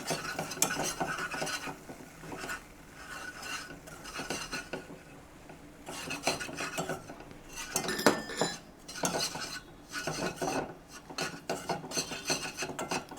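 White sauce for pasta is stirred in a pan with a spoon, giving a near, continuous scraping and rubbing against metal in uneven bursts with occasional clinks, no talking.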